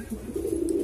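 Racing pigeons coo softly at a rooftop loft, a low steady murmur of several birds close by across the short moment, with no talk over them.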